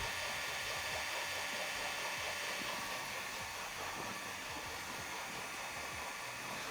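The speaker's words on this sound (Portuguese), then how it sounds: "Vou ligar aqui então a agitação" A laboratory mixer stirs a sunscreen emulsion, producing a steady, quiet whirring hum with broadband noise that stays constant and unbroken, with no voices present.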